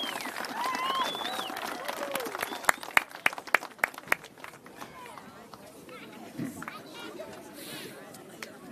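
Audience applause for local singers at a Thanksgiving charity lacrosse event, a few sharp claps rising over chatter and crowd murmur, fading quickly as talking continues.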